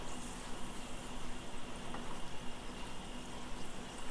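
A dense, continuous bubbling hiss of tortillas frying in hot oil, close and fairly loud, with no voices.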